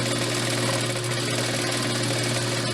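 A sewing machine stitches a pillowcase seam with a steady, close mechanical hum and rapid needle rattle, running continuously without talk.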